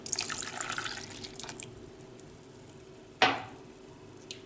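A glass of cold water splashes into a pot of corn with milk and sugar, making a watery rush at first, then quieter drips and one sharp knock.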